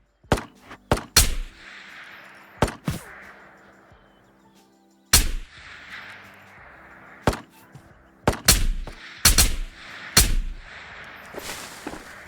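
Scattered gunshots in the shooter game Ghosts of Tabor boom out singly and in quick pairs, loud and sharp, each with a rolling echo fading into a quiet outdoor background.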